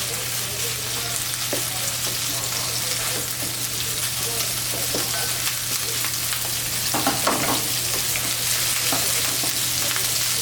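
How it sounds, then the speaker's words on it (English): Chorizo frying in a pot for charro beans, a constant loud sizzle with a steady hum beneath it and a few soft stirring knocks near the end. "I'm adding in the sausage so it cooks with the chorizo"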